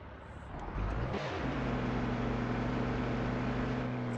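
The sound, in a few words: truck engine running in the video game Grand Truck Simulator 2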